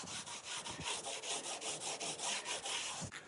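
Rhythmic, quiet scraping strokes as a tool works packed dirt off the aluminum bow cap of a leaky boat, roughly a dozen even passes with no talk.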